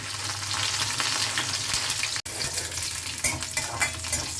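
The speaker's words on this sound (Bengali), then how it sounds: "এখানে আমি রসুন ফোড়ন দিয়ে দিলাম আর দিলাম দুটো লঙ্কা, কাঁচা লঙ্কা।" Oil sizzles and crackles steadily as garlic and green chilies fry in a pan, with occasional stirring scrapes, loud and close throughout.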